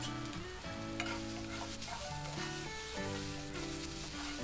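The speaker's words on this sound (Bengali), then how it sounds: "এটি আমি মিডিয়াম আঁচে খুব ভালো করে ভেজে নিব।" Bottle gourd seeds with turmeric powder frying on medium heat give a steady, close sizzle with stirring scrapes throughout, and tonal background music plays over them.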